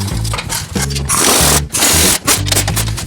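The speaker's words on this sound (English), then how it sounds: "And now we tighten up these nuts up here" Nuts tightened on the suspension of a 2014 Jeep Grand Cherokee during a leveling kit install, with close, loud bursts of a power tool whirring in repeated short runs separated by brief pauses.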